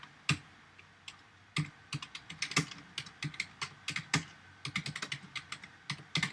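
Java code is typed on a computer keyboard in bursts of crisp, close key clicks, sometimes single strokes and sometimes quick runs, with short pauses between them in a quiet room.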